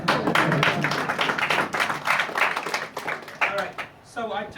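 A round of applause from an audience at a training session, scattered hand claps that rise and fade over a few seconds, with people talking and cheering over them.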